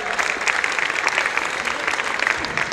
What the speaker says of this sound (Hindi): एक बार फ्रेंड्स स्टूडियो के लिए जोरदार ताली हो जाए।